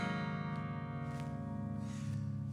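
An 1897 parlor guitar strummed while badly out of tune, giving a faint, sour chord that rings and fades over a couple of seconds with no talking.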